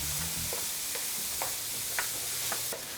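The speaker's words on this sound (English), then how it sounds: "And we're just going to cook the onions till they're just a little soft." Onions, celery and garlic sizzle steadily in a hot oiled pan, a close, even frying hiss broken by light scrapes and taps as a utensil stirs them.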